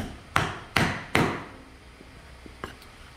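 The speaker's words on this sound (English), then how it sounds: "And I can tap all the way through the top with my hammer." A hammer taps a wooden dowel into a wooden pencil box from a craft kit, three sharp, evenly spaced knocks up close, then a few fainter small taps and clicks.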